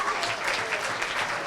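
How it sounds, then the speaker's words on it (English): Audience applause at a singing competition, Burlington Idol 2019: brief, dense clapping from a crowd, steady and moderately loud for the whole moment. "So round of applause for yourself."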